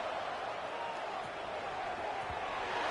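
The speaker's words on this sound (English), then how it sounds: "This Boise State crowd bringing the noise. It's deafening here on 3rd down." Stadium crowd roar at a Boise State college football video game on a third down, a steady, dense wash of noise holding at an even level throughout with no distinct cheers standing out.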